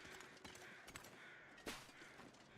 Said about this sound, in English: I'm sure those are the crows I'm hearing